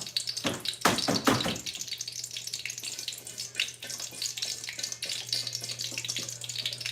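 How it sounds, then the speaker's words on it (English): A kitchen sink tap runs steadily as peppers are washed beneath it, a continuous close hiss of water with a few louder splashes at the start. "Put my peppers in the sink, and just gonna get it all washed."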